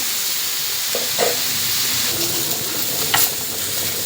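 Chopped tomatoes and onion fry in a pan for a North Karnataka tomato chutney, making a soft continuous sizzle with a few scraping stirs and clicks, with no one speaking.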